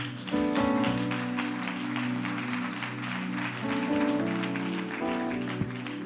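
A church congregation claps along during worship, steady loud applause mixed with rhythmic music tones and background voices.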